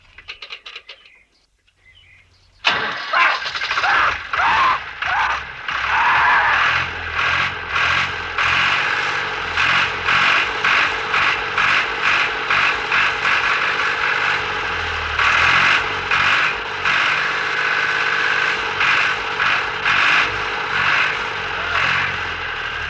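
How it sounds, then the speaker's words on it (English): A tractor engine starts abruptly after a brief quiet moment, then runs with a loud, steady, rhythmic chugging that continues throughout. "Look, it's only a tractor."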